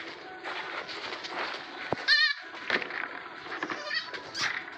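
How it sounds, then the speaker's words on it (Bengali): Goats bleat on a farm as they are herded into a shed, with one loud, wavering bleat near the middle and fainter calls and rustling around it. "ছাগলগুলোকে ঢুকিয়ে দিই ভিতরে ঘরে"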